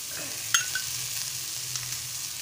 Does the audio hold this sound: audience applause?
no